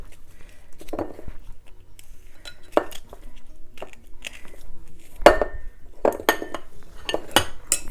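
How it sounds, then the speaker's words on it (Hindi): A knife cuts lemon slices for a Thanksgiving turkey dish, giving a series of sharp taps and clinks against a board or plate at irregular intervals, close and clear with little talk. "लेमन के स्लाइसेस को काट लेंगे।"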